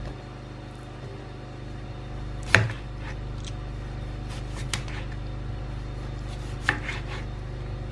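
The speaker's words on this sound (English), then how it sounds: "I'll cut my cucumber into slices." A knife slices through cucumber on a board, one sharp cut followed by a couple of lighter taps, sparse and close over a quiet background hum.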